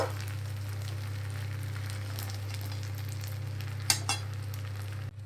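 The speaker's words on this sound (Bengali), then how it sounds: "এবার আমি মাছের মাথাগুলোকে দিয়েও দু চার মিনিটের জন্য একটু নাড়াচাড়া করে নেব" Fish heads are stir-fried in a pan, giving a steady sizzle with a low background hum and a couple of brief spatula knocks near the end.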